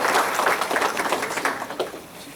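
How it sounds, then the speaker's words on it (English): Brisk round of applause from an audience at a community book bag event, dense clapping that holds steady then tapers off toward the end. "Please give her a round of applause."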